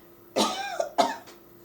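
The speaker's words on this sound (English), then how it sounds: "That is a normal coughing" A person gives two harsh, close coughs about half a second apart, each trailing off into a throaty rasp in a quiet room.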